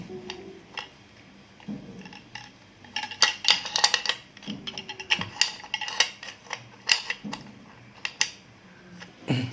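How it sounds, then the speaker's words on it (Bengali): Metal clinks and ticks come from a screw being loosened on a pressure cooker lid, with irregular bursts of sharp clatter and scraping close by, and no talking. "প্রথমে আমরা এখানে যে স্ক্রু দেওয়া আছে এই স্ক্রুটা খুলবো।"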